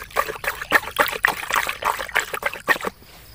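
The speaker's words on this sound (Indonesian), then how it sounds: "kita tuangkan basmi ulatnya terlebih dahulu ya kita aduk biar lebih larut biar cepat mencampur" Caterpillar pesticide for corn plants is poured and stirred into water, giving close trickling and splashing in quick, uneven pulses that stop near the end.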